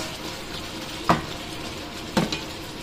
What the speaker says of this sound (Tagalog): Nag-brown-brown na yung chicken.